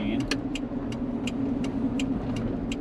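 A 1986 Toyota van with a 2.2 liter engine drives along, its steady mid-pitched engine drone humming close under a series of regular ticking clicks.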